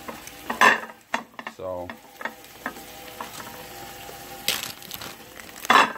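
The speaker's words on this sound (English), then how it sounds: "Meanwhile, we're browning our meat over here." Meat browning in a pan while quesadillas are prepared, a soft sizzle with scattered scraping and clattering handling sounds, and a brief spoken word near the start.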